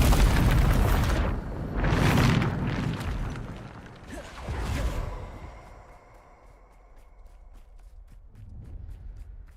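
Heavy magical blast of the Bombarda spell in Hogwarts Legacy, several deep rumbling booms and bursts over a few seconds that fade into a quieter, lingering tail.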